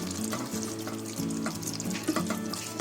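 Spoon stirring a green chutney mixed with cumin powder, red chili powder and salt, giving steady wet scraping and swishing sounds, close and continuous without a pause.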